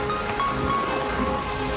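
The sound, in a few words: rain falling at Chittorgarh fort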